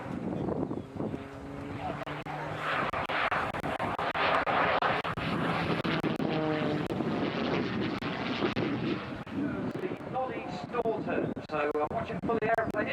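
A Tucano turboprop training aircraft drones loudly overhead at an airshow, its pitch swelling and shifting as the plane maneuvers, with a voice talking over it.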